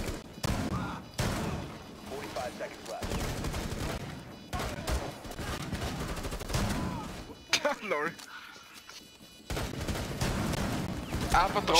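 Bursts of automatic gunfire in Rainbow Six Siege, shots punching through walls in choppy volleys separated by short pauses, with someone speaking German between them.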